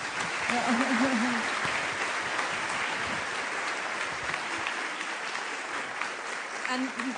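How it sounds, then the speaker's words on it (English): An audience applauds Her Majesty at the close of a session at the Bhutan Echoes 2024 festival, with sustained even clapping from a crowd. Voices speak over the clapping at the start and again near the end. "close this session now with a huge round of applause for Her Majesty"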